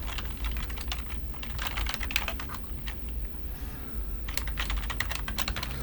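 Fingers type a password on a computer keyboard, quick bursts of light clicking keystrokes with a short pause midway, close and fairly quiet over a low steady hum.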